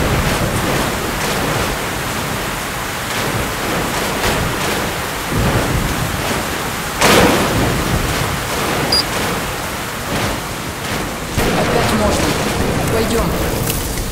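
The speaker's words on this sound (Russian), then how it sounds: "Сейчас снова будет буря." A storm in the post-apocalyptic shooter Metro Last Light: steady, dense rain hiss with low rolling thunder throughout and one sharper, louder crack partway through.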